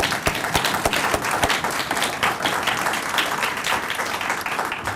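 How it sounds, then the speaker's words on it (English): Steady applause from a lecture audience at a university legacy lecture, a dense wash of many hands clapping continuously and fairly loud throughout, with no voices standing out. "So let's have a round of applause for all of our"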